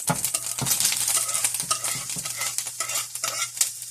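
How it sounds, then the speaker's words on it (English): Onion and garlic frying in hot oil, a steady bright sizzle with soft stirring and scraping of a utensil in the pan throughout, close and fairly loud with no talking. "my oil is getting hot. Go ahead and add your onion and garlic."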